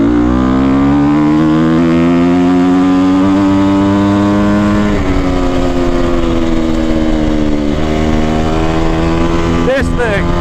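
A Honda CRF250R four-stroke dirt bike fitted with a Yoshimura RS9 exhaust revs loudly and close up, its engine note rising and falling in sustained pulls with a brief dip midway, while someone talks over it.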